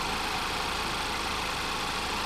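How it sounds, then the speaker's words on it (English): A 2014 Chevy Malibu's Ecotec engine idles smoothly at a steady, continuous hum with no breaks, heard close and alone without any voices. "There's that Ecotech engine purring away."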